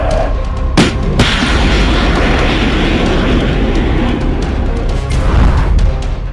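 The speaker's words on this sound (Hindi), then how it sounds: "जैवलिन कैसी मिसाइल है, पहले इसका एक छोटा सा मुजाहरा देख लीजिए।" Javelin anti-tank guided missile demonstration: two sharp blasts open onto a loud, sustained roaring rumble that carries on heavily to the end.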